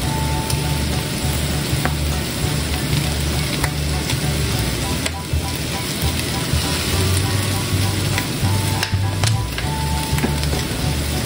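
Dinuguan with fish sauce sizzles loudly in a frying pan, a steady close crackle and hiss with the occasional scrape of a spoon stirring.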